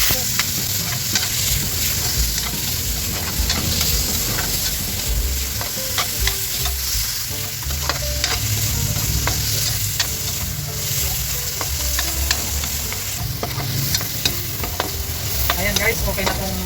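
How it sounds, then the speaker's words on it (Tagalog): Pork and chicken liver frying in a pan, a steady close sizzle with crackling pops and occasional stirring scrapes throughout. "At ito namang atay ang ating ipa-fry."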